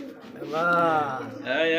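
A female racing pigeon, just released, gives soft throaty cooing close by while someone talks over it.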